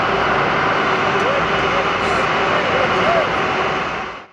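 A passenger airplane arriving from Saudi Arabia and landing at an airport, heard as a loud, steady roar of jet engines close by that holds for several seconds before tailing off slightly at the end.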